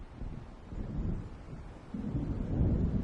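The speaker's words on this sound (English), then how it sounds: "It seems there's a storm coming." Low, rolling thunder from an approaching storm in a video game rumbles continuously over an ocean setting and swells louder toward the end, with wind and faint rain beneath it.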